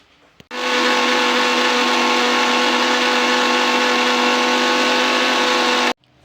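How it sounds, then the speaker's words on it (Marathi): A mixer grinder blends muskmelon juice with ice cubes, starting abruptly into a loud, steady high-pitched whine that runs for about five seconds and then cuts off. "परत एकदा आपण आता मिक्सरला हे ज्यूस फिरवून घेऊ"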